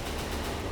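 A tank's coaxial machine gun fires in a video game, a short dense burst of rapid shots that stays loud and even throughout.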